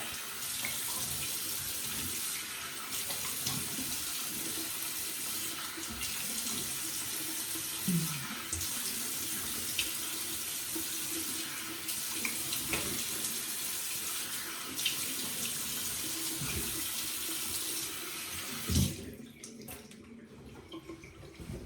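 Water runs steadily from a tap in a broad, hissing stream close by, then cuts off near the end.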